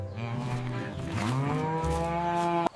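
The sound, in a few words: cow mooing in cartoon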